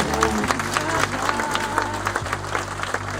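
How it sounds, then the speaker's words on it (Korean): An audience at a university lecture applauds after a talk by Professor Choi Jae-chun, a steady patter of many hands over a low sustained hum, with individual claps standing out near the end. "저희에게 한번큰 박수로"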